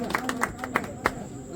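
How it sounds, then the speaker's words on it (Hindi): Scattered hand clapping welcoming Ustad Zahoor at a gathering in Amroha, a few sharp claps spaced irregularly under and between voices talking. "तालियां भाई, तालियां।"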